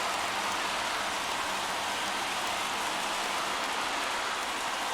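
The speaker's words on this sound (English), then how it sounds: "There is rain in the area" Rain falls in the baseball game MLB The Show 21, a close, uniform hiss of drops filling the whole stretch without pause or voices.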